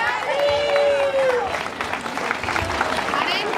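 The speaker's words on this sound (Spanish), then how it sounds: "Fuerte aplauso para los tres." A crowd applauding the top three finishers at the podium of a Castilian league road race in Monleras: steady, moderate clapping that runs under a loudspeaker announcer's voice throughout.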